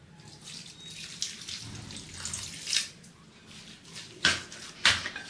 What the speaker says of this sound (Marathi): थोडं थोडं पाणी घालायचंय।